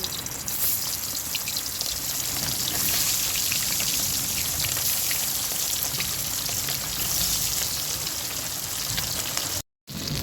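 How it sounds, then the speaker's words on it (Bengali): Turmeric-coated tengra fish frying in hot oil in a kadai, a dense, continuous crackling sizzle like heavy rain, loud and close for the whole stretch with a momentary break near the end. "তেলটা গরম হয়ে গেছে এবার মাছগুলো আমি ভেজে নিচ্ছি"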